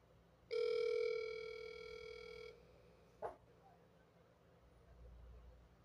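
An outgoing video call on a phone gives a single steady ringing tone lasting about two seconds, fairly faint, followed by a brief click and quiet room background.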